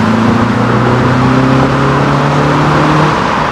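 Mini Cooper S convertible in sport mode, its exhaust giving a loud, steady engine drone with a sustained low tone throughout, close and continuous with no talking.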